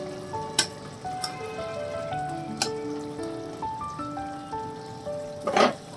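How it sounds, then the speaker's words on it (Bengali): Pabda fish sizzling as they drop into spicy curry gravy in a pan, a steady close frying hiss with a few soft splashes and clinks, no talk. "এবার আমি আঁচটা কমিয়ে এর মধ্যে পাবদা মাছগুলো ছেড়ে দেবো।"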